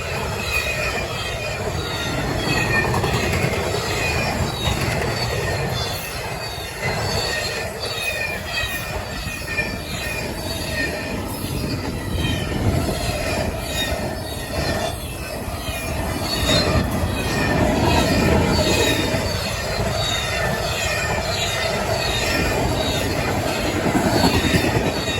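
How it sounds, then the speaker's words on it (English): A fast CSX freight train passes a rural crossing in western New York, a continuous loud roar of wagons with rhythmic clickety-clack of wheels and occasional metallic squeals sustained throughout. "That was an awesome train we caught."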